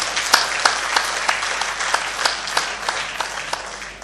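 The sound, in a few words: audience applause at a mushaira poetry event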